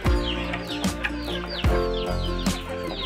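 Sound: chickens fighting outside

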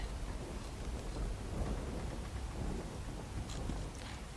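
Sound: rain and thunder

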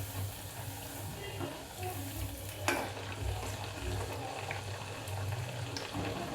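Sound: flipping poha medu vada frying in oil

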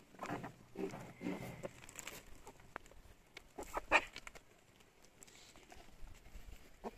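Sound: chickens clucking in a village yard

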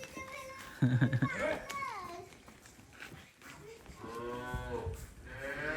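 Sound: cattle mooing

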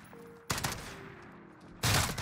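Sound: shotgun fire in Modern Warfare video game

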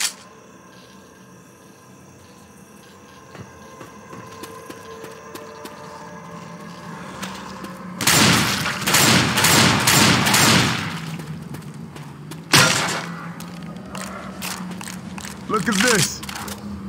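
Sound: rifle gunfire in a video game

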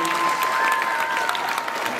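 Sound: applause, clapping in praise

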